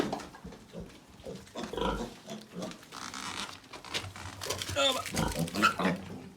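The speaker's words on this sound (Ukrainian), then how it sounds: "Ось цей кабанчик, зараз ми його винесемо." Young pigs grunting and snuffling up close, with rustling and shuffling movements around them, intermittent and fairly loud.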